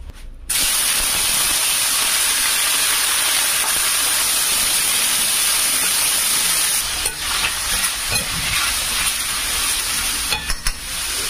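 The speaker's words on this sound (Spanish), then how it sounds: "Vamos a sofreír el pescado y las vieiras." Fish and scallops sauté in a hot pan, a dense, continuous close sizzle and spitting hiss with occasional stirring scrapes toward the end.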